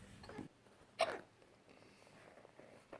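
A single sharp hiccup bursts out about a second in, loud and close, with faint kitchen room noise before and after while Kolachy cookie dough is being mixed.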